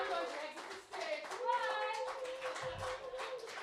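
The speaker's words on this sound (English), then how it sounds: "Don't make a crowd of 20 people clap too long." A small audience of about twenty people claps in light scattered applause at a live bard performance, close and fairly faint, with a voice speaking over it.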